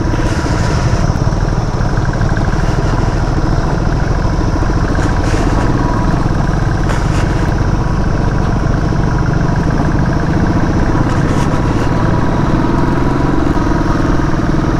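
Motorcycle engine labouring in first gear on an off-road climb during a group ride in North Bengal, a steady, loud, close drone with rough clattering texture running throughout.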